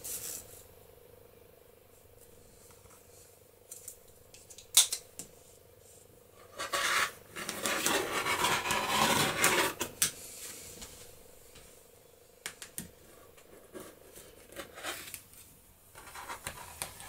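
Scissors cut through doubled fabric, measuring a 40 cm length off a 50 cm wide piece while sewing a Halloween witch skirt, a dense rasping snip burst near the middle with lighter handling rustles before and after.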